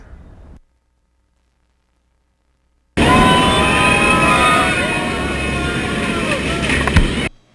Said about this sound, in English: That's the sound of hitting 0 G's weightlessness from inside the belly of a C-130